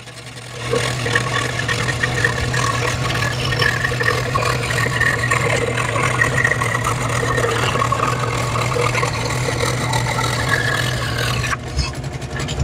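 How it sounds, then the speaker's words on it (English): A scroll saw slowly cuts a long piece of wood for a robin birdhouse, giving a loud, steady buzzing motor drone for most of the clip before it stops abruptly, and one short spoken word is heard. "You can see on a scroll saw the long wood will make it very slow."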